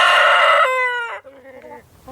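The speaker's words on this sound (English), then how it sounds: "Interrupting chicken." A rooster crows once, loud and close, its harmonic call starting full and tapering into a drawn-out, wavering tail.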